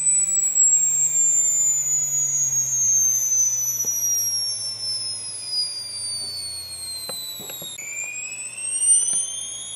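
A stepper motor driven by an SMC controller whines steadily at several tones that glide slowly downward, then jump and reverse direction partway through, with faint clicks and no talking.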